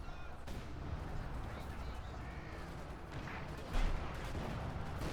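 Tank and artillery gunfire in the Company of Heroes 2 battle game, muffled booms and shots within a dense, continuous battle din, with one louder hit standing out near the end.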